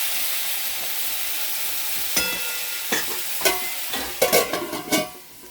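Vegetables with turmeric frying in oil under a lid on low heat, a steady soft sizzle with scattered sharper crackles and stirring clatter growing busier toward the end.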